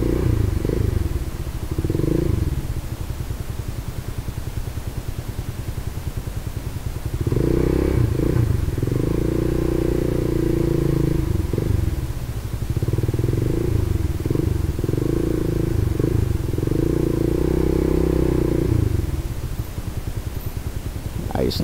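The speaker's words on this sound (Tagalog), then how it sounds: "Dami ng motor, ah." Many motorcycles pass and idle in traffic, their engine drones rising and falling in clusters, with a person talking over them.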